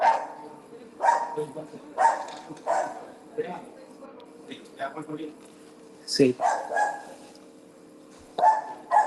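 A dog barks repeatedly in short bursts at moderate distance, cutting through an ongoing conversation where people keep talking over the barking.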